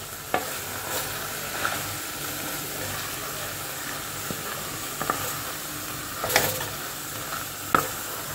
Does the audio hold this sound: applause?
no